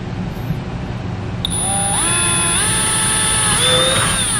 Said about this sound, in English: We're just using a 1/8 drill bit just to make a little hole there.